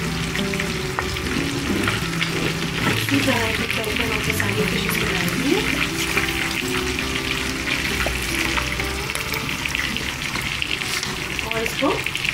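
Fish and karahi masala frying together in a pan, a dense, continuous close sizzle with faint clinks and background hum, steady from start to finish.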